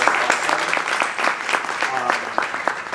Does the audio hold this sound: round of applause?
yes